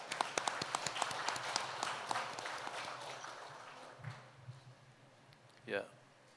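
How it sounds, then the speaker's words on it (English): Applause from an audience at a church gathering after a theological presentation, with sharp individual claps in the first few seconds thinning out, then a brief voice and a closing bump of noise near the end. "Let us give him an applause."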